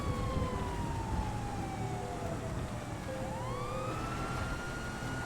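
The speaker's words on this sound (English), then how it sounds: "Lights, sirens, please." An emergency vehicle siren wails in a GTA roleplay game during a funeral procession, one rising and falling tone sweeping down then back up over a steady engine rumble, fairly faint.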